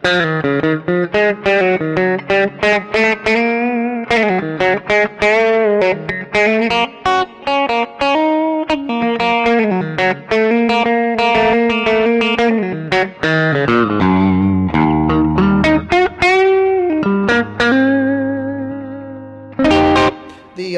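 A 1964 Danelectro Shorthorn electric guitar plays a run of plucked notes and chords, shifting from a full, warm neck-pickup tone to a brighter middle-pickup one, with light effects and no talking.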